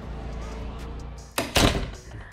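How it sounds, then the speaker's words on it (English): A door is pushed shut indoors, giving a couple of close thuds and a rattle after soft background noise. "Let me close the door, it's a bit noisy."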